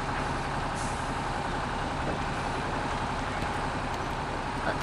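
In the video game Spintires MudRunner, a truck climbs in first gear, its engine a loud, constant low drone that holds steady throughout without a break.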